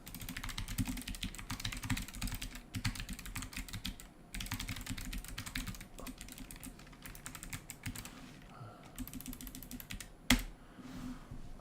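Rapid typing on a computer keyboard at a desk, dense bursts of clicky keystrokes with short pauses between runs and one sharper clack near the end, close and fairly quiet.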